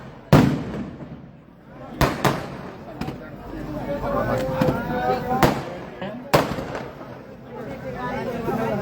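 Sharp firecracker bangs go off several times at irregular intervals, loud and close, at a midnight Shivaji Jayanti tribute gathering, while a crowd talks and murmurs between the blasts.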